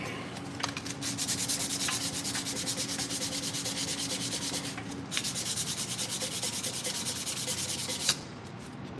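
Fresh sandpaper scrubbing crud off Tesla Model 3 brake parts, a steady close rasping rub in rapid back-and-forth strokes for about eight seconds, ending with a brief knock.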